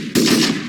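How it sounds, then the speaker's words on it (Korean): A short, loud burst of machine gun fire erupts suddenly from near silence, a dense rattling volley that carries on without pause for the rest of the moment. "어둠 속에서 총소리가 터져 올랐다."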